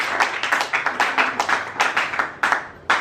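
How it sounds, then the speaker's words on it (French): A church congregation claps in a quick, steady rhythm of many hands praising the Lord, close and lively, with faint voices mixed in. "On peut acclamer le Seigneur."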